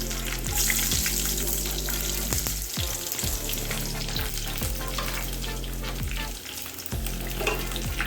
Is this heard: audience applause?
no